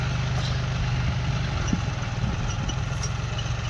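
A tractor hauling a load of farm manure idles nearby with a steady, low diesel rumble and even throbbing pulses, continuous and fairly loud with no voices.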